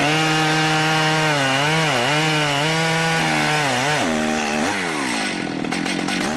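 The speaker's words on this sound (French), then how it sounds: "Ce n'est qu'après avoir calculé précisément où le tronc va tomber qu'ils mettent en marche leur scie à chaîne." A chainsaw cuts rosewood in Madagascar, a loud, close, sustained engine drone that shifts pitch as the chain bites into the trunk, with no voices.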